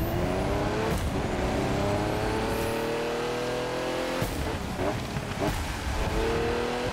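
Bugatti Centodieci hypercar driven in the racing game The Crew 2, a loud continuous engine whine rising and falling with gear changes, with a few sharp transients along the way.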